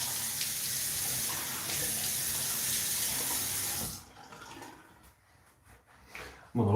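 Running tap water rinses after a shave, a steady close hiss and splash from the faucet for about four seconds before it shuts off, leaving soft drips and small handling noises.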